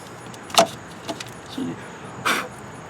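An ignition key turning in a car's ignition lock cylinder, heard as a few short metallic clicks and a brief jangle of keys, close by and fairly quiet.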